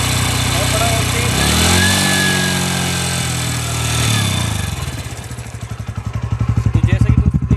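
A TVS Radeon BS6 motorcycle engine revs up and then settles into a fast, pulsing exhaust beat, loud and close. A voice speaks at times over the engine.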